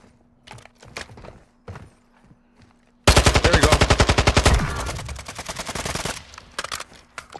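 Rapid automatic gunfire in the video game Warzone 2, a loud sustained burst of closely spaced shots that tapers into scattered rattling, preceded by a few quieter thuds and clicks.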